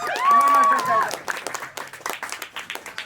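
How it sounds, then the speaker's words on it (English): Applause and clapping rise from a live festival crowd for the drummer, Chelsea, following a voice with a held tone; sharp claps then repeat in an uneven patter at moderate level. "Give a round of applause for Chelsea."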